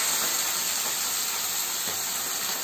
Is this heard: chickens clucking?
no